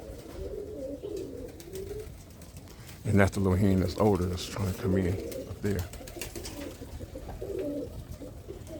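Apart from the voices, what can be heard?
Birmingham Roller pigeons cooing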